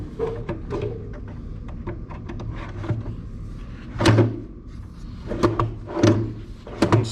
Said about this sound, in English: We'll put the door and drawer back in.